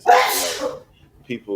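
One sharp sneeze bursts out loudly at the start and fades quickly, followed by a person beginning to talk in a casual conversation.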